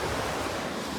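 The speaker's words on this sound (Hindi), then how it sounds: "ये नदी रही भाई मधुगंगा" The Madhuganga, a mountain river in a forested valley, rushes in a steady, loud broadband roar, with gusty wind buffeting the microphone close by.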